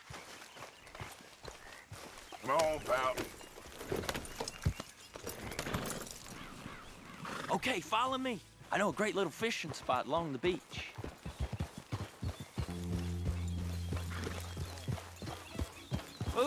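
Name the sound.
horse hooves while riding, from a video game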